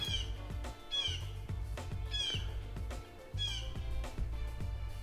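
A pet bird squawks in a woodworking workshop, its shrill calls repeating in bursts roughly every second over a steady low background hum.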